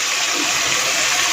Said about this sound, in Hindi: जब आप फ़िश डालते हैं ना वो पानी वाली होती है। ऑयल हमारा गर्म होता है और वो ऑयल बाहर निकलना शुरू हो जाता है।